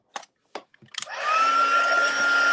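A few taps and clicks, then a heat tool whirs on and blows a loud, steady tone with a rising whine while it melts clear embossing powder on a stamped card.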